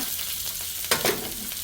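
Chopped onion, green chilli and curry leaves sizzle steadily in a hot oiled pan while tomato chutney is being made. There is a constant close frying hiss and a brief stirring scrape near the middle, with no talking.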